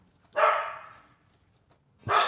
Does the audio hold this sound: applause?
no